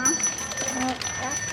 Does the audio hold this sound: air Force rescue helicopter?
no